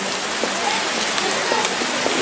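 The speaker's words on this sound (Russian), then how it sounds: "Очередной дождик сегодняшнего дня." Steady rain pours down on a city street on a Sunday, a dense continuous hiss with scattered drops and splashes, heard close and alone.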